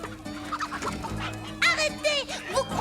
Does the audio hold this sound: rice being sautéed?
no